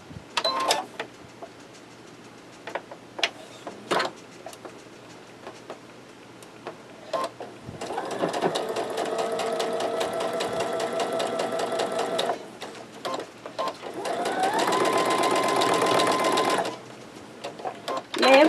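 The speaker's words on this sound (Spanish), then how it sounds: "vamos a comenzar a coser desde la unión hacia fuera, teniendo cuidado que no se nos mueva" A sewing machine stitches fabric pieces for a quilt star block, running in two sustained close-up bursts with quiet clicks and handling sounds between them.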